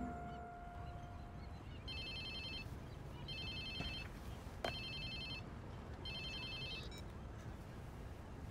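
In the video game Watch Dogs 2, a phone rings in four evenly spaced electronic trilling bursts over a dense, noisy game background.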